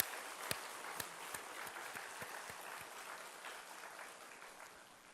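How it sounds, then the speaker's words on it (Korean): Congregation applauding during a Sunday church service, a steady broadband patter of many hands with a few sharper claps standing out, easing off toward the end. "박수하시라."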